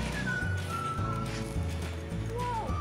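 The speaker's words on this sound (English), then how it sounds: "Cassie, that's a big horse." A large horse sounds in the background at a New Year outing, a faint whinny-like tone rising briefly over a steady, busy outdoor din with low rumbling.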